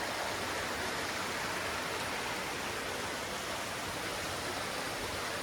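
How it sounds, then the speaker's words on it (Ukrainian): A small stream in a mountain forest flows with a steady, even rush of water that holds unbroken throughout, with no voices. "Тут такий струмочок тече"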